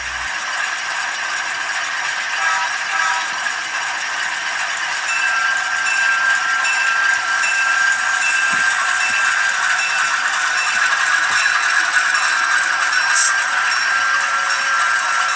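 A small model MLW M420 locomotive clatters steadily along its track, a continuous mechanical rattle and whir with faint clicks, no voices.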